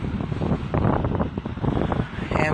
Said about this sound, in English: Wind is nice.